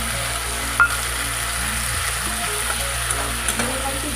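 Ginger paste and garlic paste frying in a pan, a steady close sizzle running throughout, with a single sharp clink near the start and soft stirring scrapes underneath.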